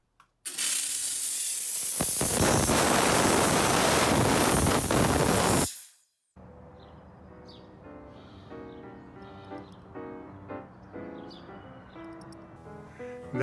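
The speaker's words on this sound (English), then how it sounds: "We're going to steam clean it, clean out the inside of the bail" A sterling silver and poppy jasper pendant gets a loud, steady blast of hissing steam from a steam cleaner for about five seconds, then it cuts off, leaving quieter clinking and handling sounds.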